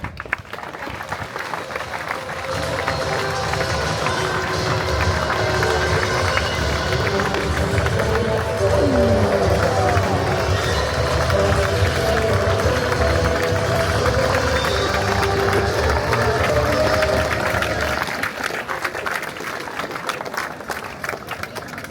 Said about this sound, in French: Merci de vos applaudissements pour ces 4 parachutistes de l'école de troupes paraportées